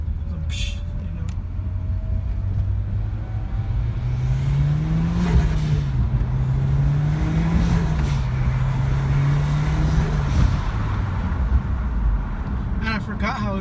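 Mitsubishi Lancer Evolution X with its exhaust off revs and drones steadily at close range with the windows down, the engine note rising and falling in slow waves over a constant low rumble.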